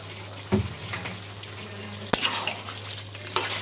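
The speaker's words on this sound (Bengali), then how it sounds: "এখন আমি বেশ খানিকটা সয়াবিন তেল দিয়ে দেব।" Goat meat frying in soybean oil in a pot, a steady close sizzle broken by a few sharp clatters of a spoon stirring against the pan.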